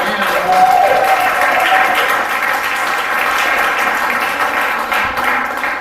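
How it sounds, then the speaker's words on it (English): A poetry-reading audience applauds for the poet Sam, a dense, steady wash of many hands clapping at once that holds loud throughout with faint crowd murmur. "But let's give a big round of applause for Sam."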